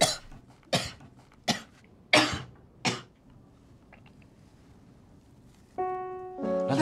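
A man coughs in a string of five harsh, separate bursts spaced about a second apart, close and loud in a quiet room, followed after a pause by a short tonal sound and rising noise at the end.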